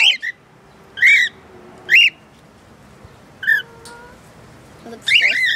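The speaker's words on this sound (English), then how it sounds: "A cockatoo" Caged cockatoos let out loud, harsh squawks in several separate bursts spread across the clip, close to the listener, with quiet pauses between the calls.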